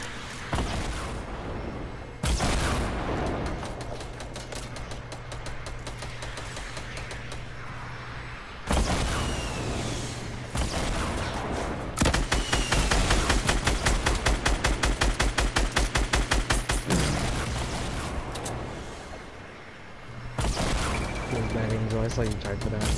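Rapid automatic gunfire from a Fortnite squad battle crackles in dense repeated bursts, loud and close, with breaks between volleys and players talking over the shooting.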